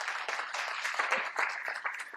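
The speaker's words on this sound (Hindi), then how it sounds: "एक जोरदार ताली मैं चाहूंगा सर के लिए" Audience at a gathering applauding a professor, a steady wash of clapping from many hands that stays fairly faint and distant throughout.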